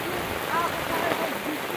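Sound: heavy rainstorm

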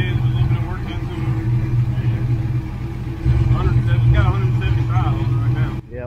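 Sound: Calypso clone engine running

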